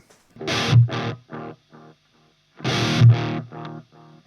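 Two distorted electric guitar phrases are each followed by a string of quickly fading delay repeats, run through the front end of an amp, loud and separated by silence.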